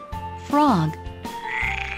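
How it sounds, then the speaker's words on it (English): A single close frog croak rising and falling in pitch, set over a low steady hum with a faint chirp near the end. "Frog."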